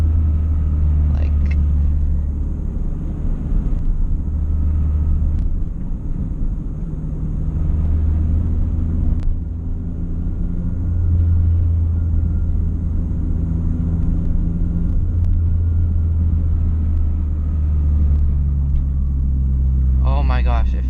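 A 2012 Honda Fit with a new clutch, Beatrush engine mount and Spoon rigid collars drives steadily, its engine hum and road rumble continuous and close throughout, with a faint thump or two near the end.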